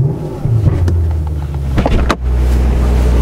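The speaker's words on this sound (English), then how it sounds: "the sound of AMG" Mercedes-AMG S63 Coupe 4MATIC+ from 2018 with its engine giving a steady low rumble heard from inside the car, interrupted by a brief dip and a few clicks before the drone resumes.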